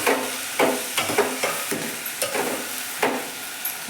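Two potatoes being stirred in hot oil for sprouted green gram sambar, with a steady sizzle under repeated spoon scrapes and knocks against the pan, close and fairly loud.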